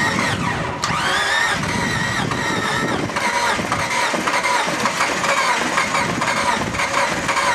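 A truck engine cranks and catches after its spark plugs are reinstalled, settling into a steady, loud rough running with a mechanical squeal near the start, filling the whole stretch without talk.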